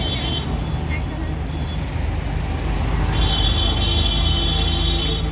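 Heavy vehicles sit jammed on a mountain ghat road, a continuous loud rumble of engines and traffic with a swelling roar in the later seconds.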